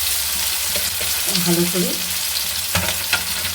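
Onions frying in hot oil with cinnamon, cloves and cardamom in a pan for an egg curry: a steady close sizzle under brief stirring scrapes, with a short spoken phrase partway through.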